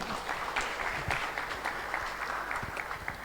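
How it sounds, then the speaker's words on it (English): Audience applause at a Sunday love feast gathering of a Krishna devotional community, steady dense clapping at moderate level with faint voices underneath. "So let's give Prabhu another round of applause."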